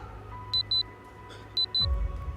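A Minecraft bomb alarm beeps before the blast: two pairs of short, high, clear beeps, with a low rumble rising at the end.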